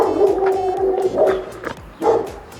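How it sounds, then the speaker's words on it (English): Several dogs bark and yip in quick, uneven bursts in Greece, fairly close, with one sharper bark standing out toward the end. "everywhere you go there's dogs"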